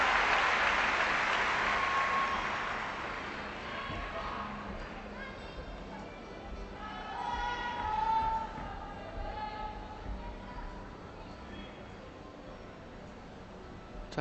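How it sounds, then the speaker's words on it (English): Arena crowd at an Olympic women's team gymnastics competition, a broad wash of cheering and applause that is loudest at the start, eases off, then swells again midway, with a commentator's voice over it. "the crowd is cheering at someone else's performance somewhere else in the podium, in the arena"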